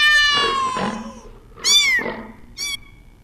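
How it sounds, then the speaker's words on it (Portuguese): A domestic cat meows repeatedly in high, drawn-out, rising and falling calls, close and clear, with three distinct meows and no other voices. "Um som grave do leão e o som agudo do gato."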